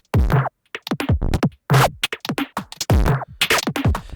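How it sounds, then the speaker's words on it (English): Synth sound run through an aggressive waveshaper preset whose distortion is randomized by an LFO every eighth note, heard as choppy, harsh bursts that cut in and out in an uneven rhythm, loud and upfront. "So every eighth note, we're getting a different random distortion."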